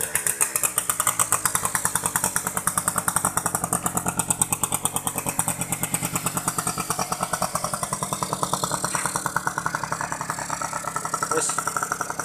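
A stock Yamaha V80 motorcycle undergoing restoration idles with a steady, rapid two-stroke putter, close and constant throughout, with a slight rev swell near the end; no talk over it.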